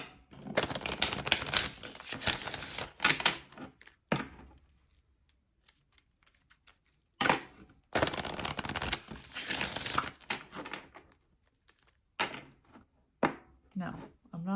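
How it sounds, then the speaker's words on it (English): Lenormand cards drawn and handled from a deck, giving dry, crisp riffling and shuffling bursts in two main spells with short scattered card flicks between them, close and moderately loud. "I'm just going to get a few cards from the Lenormand deck."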